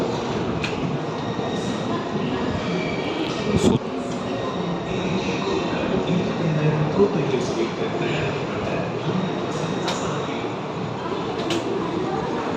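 Inside the compartment of the Karaikal Express passenger train on the move near Erode, a steady rumble of wheels on rail with occasional clacks and knocks, under continuous talk.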